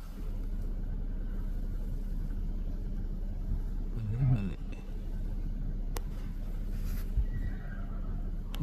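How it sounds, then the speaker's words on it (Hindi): A horse whinnies briefly and at moderate distance amid a low steady rumble, probably from a passing vehicle, with faint background noise throughout. "जबरदस्त घोड़ा है"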